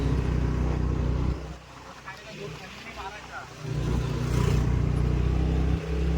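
A car or similar road vehicle runs along a hilly road above a river, its engine a steady low rumble that dips briefly and swells again as it passes close by, with faint voices in the background.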